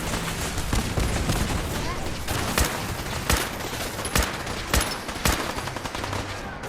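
Enemy gunfire in Fallout 4 cracks out in sharp, loud single shots and short bursts at irregular intervals over a constant battle din, with someone talking intermittently underneath.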